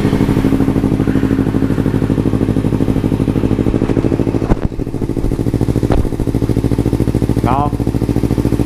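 A Kawasaki Z300 motorcycle fitted with a Musarri exhaust idles close by with a rapid, steady throbbing pulse, holding loud and even apart from a brief dip and a couple of clunks before a voice briefly speaks near the end.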